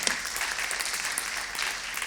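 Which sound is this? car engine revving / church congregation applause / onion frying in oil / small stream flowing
church congregation applause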